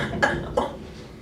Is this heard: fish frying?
no